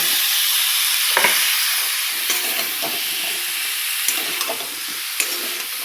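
Ridge gourd pieces tipped into hot oil with frying spices give a steady loud sizzle and hiss, with several sharp scraping stirs of a spatula spaced through it.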